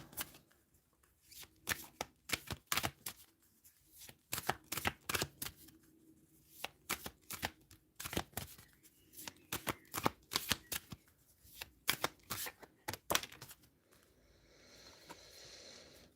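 Tarot cards are shuffled by hand in quick crisp riffles and flicks, repeated in bursts with short pauses, close and fairly quiet, with no talk.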